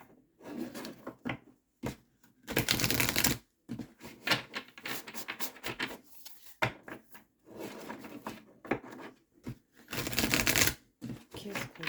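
Playing cards are shuffled and drawn for a card reading, with bursts of riffling and sliding card sounds alternating with softer handling taps and brief gaps, close and fairly quiet.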